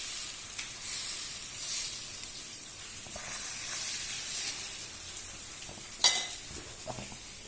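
Dosa batter sizzling on a hot pan, a steady bright hiss with soft crackles and a brief scrape or clink near the end, close and fairly quiet.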